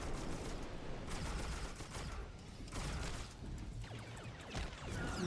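Dense video-game gunfire chatters through a sustained, busy battle mix, with rapid shots, mechanical clatter and whooshes layered over a constant low rumble.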